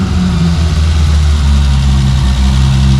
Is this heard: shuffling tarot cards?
no